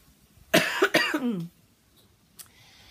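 A short burst of coughing, two or three hoarse coughs close to the microphone, followed by quiet.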